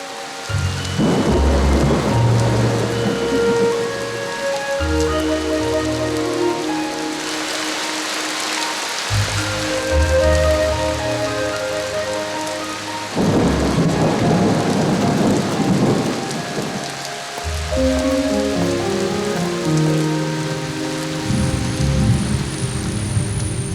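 Thunderstorm with heavy rain in the jungle: loud rumbling thunder rolls in repeated long waves over a constant roar of downpour, with no voices.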